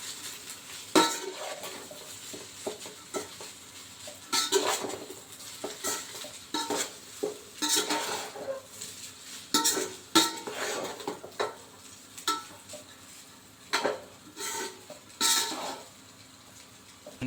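Spatula scraping and clinking in a pan while egg fried rice is stirred, irregular bursts of metallic scrapes and taps over a faint sizzle, moderately quiet with no voices.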